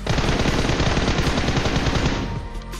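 Automatic gunfire in the BGMI battle royale game: loud, rapid, continuous bursts of shots up close, easing slightly near the end.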